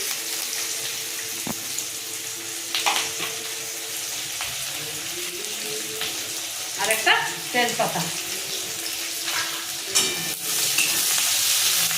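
Chopped onion, curry leaves and garlic fry in oil in a pan, giving a steady soft sizzle with scattered stirring clatters and brief bursts, while someone speaks briefly over it.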